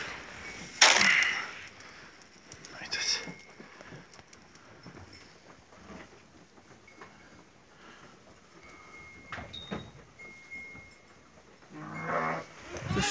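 Sheep and goats at a sheepfold in Maramureș, with a few sharp bleats standing out near the start and end over a low, steady barn hubbub and faint shuffling.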